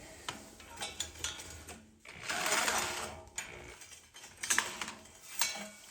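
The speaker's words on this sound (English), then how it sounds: "So what I am used to is a nice sawzall." A reciprocating saw cuts through the metal frame of a 28kW electric go-kart in short rapid bursts with pauses between them, close and buzzing, with metallic clatter as the blade bites.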